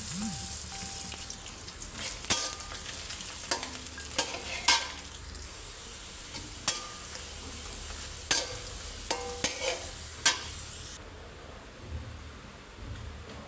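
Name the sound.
greens frying in a little oil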